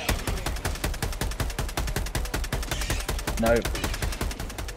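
Rapid automatic gunfire from a weapon in the video game Helldivers 2, a fast steady stream of punchy shots continuing nonstop and loud, with a player briefly speaking over it.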